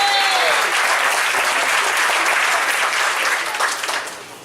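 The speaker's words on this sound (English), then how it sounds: "One more hand clap for the principal." A full audience claps loudly for a school principal at a program event, a thick continuous burst that holds steady and then tapers off near the end.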